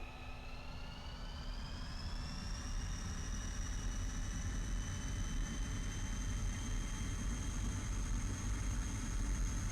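A MiG-21 jet engine on a ground start in DCS, spooling up to full throttle with a rising whine that levels into a steady high tone over a constant roar, close and sustained.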